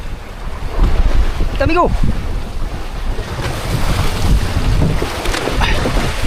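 Pacific ocean waves slosh and surge against a small fishing boat under heavy wind buffeting the microphone, with brief shouted voices over the water.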